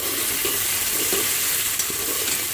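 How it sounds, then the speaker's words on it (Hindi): Turnip frying in a pan on the stove, a steady soft sizzle with light stirring scrapes and faint clicks throughout, close and moderately quiet. "अब मैं इसको भूनने लगी हूँ।"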